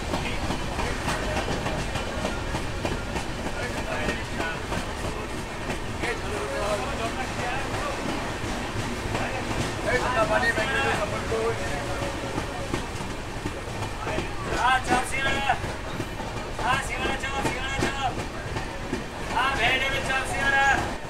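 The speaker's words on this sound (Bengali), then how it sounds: "আমাদের ট্রেন এই মুহূর্তে থ্রু পাস করে বেরিয়ে যাবে নলপুর স্টেশন।" An express train runs through Nalpur station without stopping on the Howrah to Digha line, a steady rumble and clatter of wheels with rattling carriages, a few bright squeals and clacks, and voices heard over the noise.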